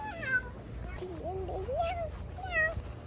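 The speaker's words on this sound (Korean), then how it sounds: "새끼 야옹이다" A kitten gives several thin, rising and falling meows, some drawn out and others short, heard close over a low background hum while people, including a child, talk nearby.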